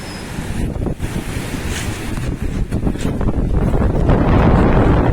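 Rough sea waves and strong wind during Typhoon Paeng, a continuous roaring wash of surf with heavy wind buffeting the microphone throughout.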